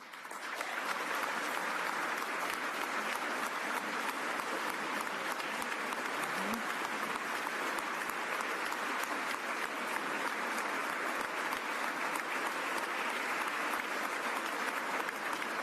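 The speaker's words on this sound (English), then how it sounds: "Otis is clapping" Sustained applause from a large audience at a governor's State of the Commonwealth address: a thick, even roar of clapping that holds at constant strength for the whole stretch, with no clear voices over it.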